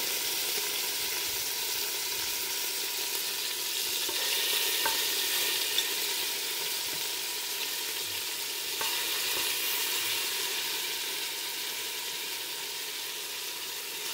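Steady, close sizzling and crackling of chicken frying in a pressure cooker, continuous and even throughout with faint clicks and no talking.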